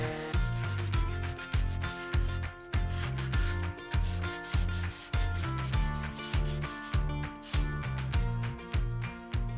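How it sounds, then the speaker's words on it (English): Wood furniture is sanded by hand with 180 grit sandpaper in brisk, regular back-and-forth strokes, each one a loud, close, rasping swish in a steady rhythm. "use a medium grit, like a 180, to scuff up the entire surface"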